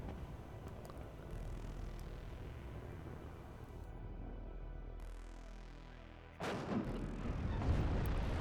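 Tank gunfire in a WARNO video game battle, with an Abrams engaging enemy armour: a heavy cannon boom early on, then a long rumbling decay and a dense burst of battle noise near the end.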